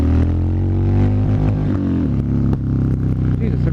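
A 2016 Harley Davidson Street Bob motorcycle rumbles loudly and steadily close by, its deep engine and exhaust note dipping and rising in pitch as the throttle is worked.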